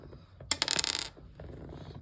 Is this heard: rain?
no